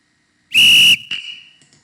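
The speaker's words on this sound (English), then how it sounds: "we should hear the sound of a referee's whistle" Referee's whistle effect played by a Scratch-style timer program: one sharp, loud shrill blast of about half a second, then a brief fainter trill trailing off.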